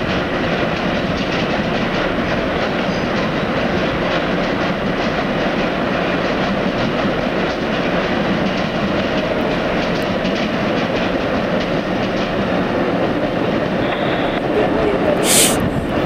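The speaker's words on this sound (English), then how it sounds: "Eastbound Long Island train, November the 23rd." An eastbound Long Island Rail Road train passes close by, its loud continuous rumble and rhythmic clickety-clack of wheels over rail joints holding steady for the whole stretch.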